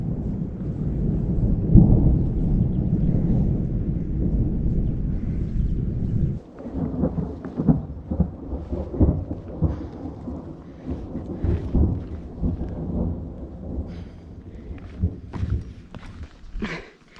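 Thunder rumbles loudly over steady rain on a mountain trail in the Dolomites, with a big roll early on, then rain patter with crunching footsteps and scattered drips nearby.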